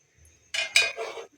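A cooking pot of yogurt chicken is covered, giving a short, close metallic clatter and clink of the lid settling, a few rattles in quick succession.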